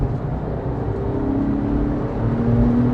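A Porsche 911 engine, a Carrera 3.2 or 997 Carrera S, drones steadily under acceleration in sport mode, heard from inside the cabin as a loud low rumble that rises slightly in pitch over a few seconds.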